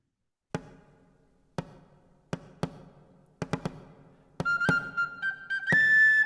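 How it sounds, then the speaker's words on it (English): A series of sharp percussive drum hits at uneven intervals, joined near the end by a bright, sustained penny whistle tone. "which begins with a penny whistle and drum introduction"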